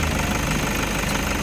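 A Toyota Innova engine, broken down on an expressway, idles steadily with a dense, even mechanical rumble and a faint rapid knock, close and loud with no talk.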